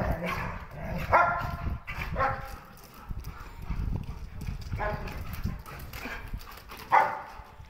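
Dogs at a dog farm in Berkane, Morocco, bark in short bursts amid general animal commotion, with people talking nearby throughout.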